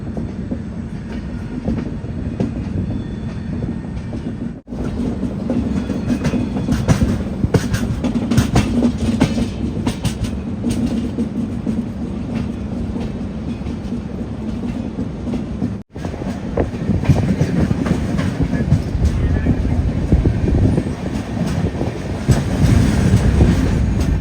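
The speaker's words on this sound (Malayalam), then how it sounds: "ട്രെയിൻ വളഞ്ഞു പോന്നണ്ട" The Kerala Express rolls through a curve, a loud continuous rumble of wheels on rail with clickety-clack and faint squeal, broken by two brief dips.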